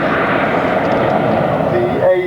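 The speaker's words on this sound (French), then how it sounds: "The A300-600 Super Transporter, very obvious nickname, the Beluga, since it looks somewhat like a dolphin, and is its derivative of the A300-600 passenger plane." An Airbus A300-600 Super Transporter Beluga cargo jet at the Paris Air Show, its engines giving a loud, steady roar throughout, with a faint rising tonal whine near the end.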